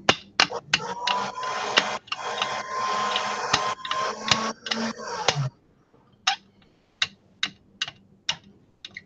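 A blade chops polymer clay matrix on a work surface with a quick run of sharp, close taps, then sparser single chops that are clean and crisp, with no talk.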